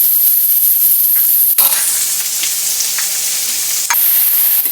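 Onions sauté in a hot pan before cabbage goes in, a loud, close, steady sizzle and hiss broken by a couple of sharp stirring scrapes.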